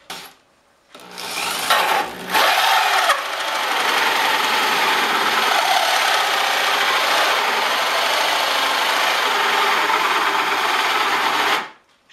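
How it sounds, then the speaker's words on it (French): A powerful electric drill bores into wood while a bench is being built. It starts with a couple of short bursts and then runs in one steady, loud, unbroken whir for about nine seconds before stopping abruptly. "Une perceuse qui a de la force."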